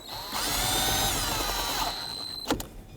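Power screwdriver tightening small screws on a Ford Ranger grab handle: a single loud whirring burst that winds up and slows over about a second and a half, followed by a brief sharp mechanical click.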